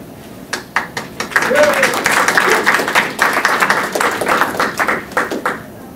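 An audience at a New York City meeting claps, starting with scattered claps that swell into a dense round of applause and then thin out again over about six seconds.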